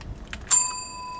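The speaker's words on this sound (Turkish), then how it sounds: "Abi zili çaldı." A doorbell: a single bright ding rings out after a soft click, its clear metallic tone lingering and slowly fading.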